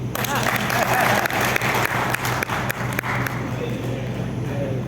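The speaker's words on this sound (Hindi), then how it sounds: "एक ताली तो बनती है।" Audience clapping at a provincial Arya Veer Dal convention in Smriti Bhawan, Jodhpur, a burst of fairly loud, dense applause that tapers off toward the end, with some voices mixed in.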